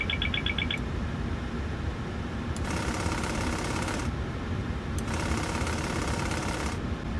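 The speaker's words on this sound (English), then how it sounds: "let's test the overspeed sounds and the stall shakers in the yoke." In a PMDG Boeing 737 flight simulator cockpit, a rapid high clacker of the overspeed warning sounds briefly, then the stall stick shaker rattles in two long buzzing bursts over a constant cockpit hum.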